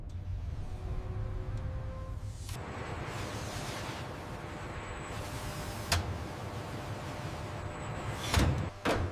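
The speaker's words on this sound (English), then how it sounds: "At the colossal factory giant bay, doors slide open, revealing a world of advanced automation" Giant bay doors slide open at a large automated tuna processing factory, a steady broad mechanical rumble and rush of air running throughout, with a low machine hum and a few sharp clanks near the end.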